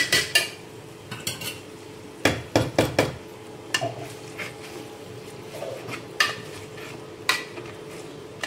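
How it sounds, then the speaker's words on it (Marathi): Boiled vegetables are mashed in a metal pot, with irregular clanking knocks and scraping clatters from the masher striking the pot. The bursts come in quick clusters with short pauses between them, close by and moderately loud. "याला सुद्धा आपण मॅश करून घेऊ थोडंसं"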